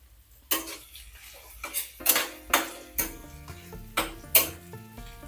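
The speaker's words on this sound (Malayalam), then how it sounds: "ഇനി ഇതിലോട്ട് ഒരു 2 ഇടത്തരം സവാള അരിഞ്ഞത് ഇട്ട് കൊടുക്കാം." Chopped onions dropping into a cooking pan for an egg and long-bean dish, a series of about eight separate clinks and scrapes of a utensil against the metal pan, spaced out and fairly close, with a faint ringing tone between hits.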